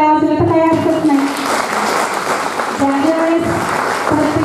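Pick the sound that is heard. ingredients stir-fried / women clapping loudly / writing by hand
women clapping loudly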